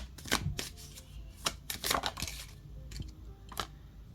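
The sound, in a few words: shuffling tarot cards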